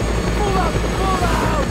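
Aircraft engine roar during an aerial battle in the video game Just Cause 2, a loud steady low rumble with pulsing beats, sirening whine layered over it throughout.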